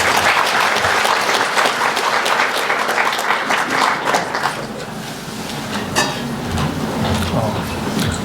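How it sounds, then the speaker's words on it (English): An audience applauds a speaker at a primary care talk on adult ADHD services, a dense, steady wash of clapping that fades slightly toward the end, with faint murmurs underneath. "Could we give a round of applause to Jack Leach, please?"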